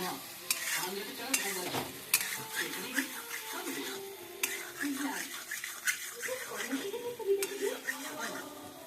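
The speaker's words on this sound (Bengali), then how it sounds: "খুন্তি দিয়ে না, হাতা দিয়ে করছে।" A ladle scrapes and stirs pasta in a sizzling pan, giving soft irregular scraping strokes and a few sharp clinks against the metal, while a voice talks over it.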